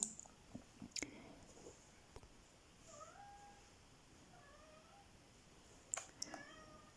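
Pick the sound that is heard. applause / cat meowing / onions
cat meowing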